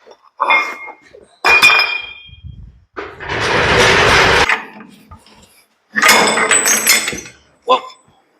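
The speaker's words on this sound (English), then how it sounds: "that socket went all the way over the wall" A wrench socket flies loose while working on a Ford 7000/7200 tractor drawbar and three-point hitch, with several sharp metallic clinks and clatters in bursts, loud and close, mixed with voices.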